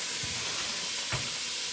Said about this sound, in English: Dump it in. Oh yeah, that's a nice good sizzle there.